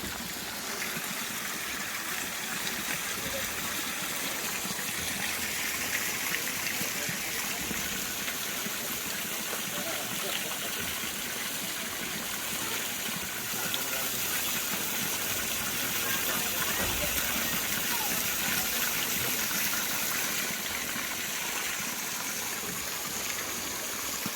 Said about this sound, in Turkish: Böyle bu şekilde şelale.